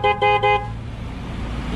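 Stock car horn fitted to a motorcycle and wired with a relay sounds three short loud honks in quick succession, then quiet background hum.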